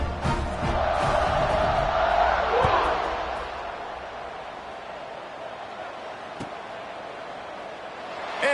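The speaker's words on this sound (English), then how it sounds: "They're set to kick it off, and this crowd now ready to get behind them." A stadium crowd in a football video game roars at kickoff, a steady loud swell of cheering that fades slightly toward the end.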